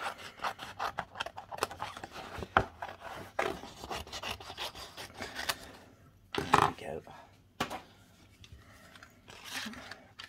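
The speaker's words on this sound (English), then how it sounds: "I'm going to have to cut this down a bit." Card being cut down to size for cardmaking, a close, dry rasping and rubbing with several sharp clicks and snaps, running irregularly through the stretch with short pauses.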